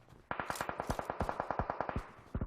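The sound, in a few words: gunfire in the video game PUBG Mobile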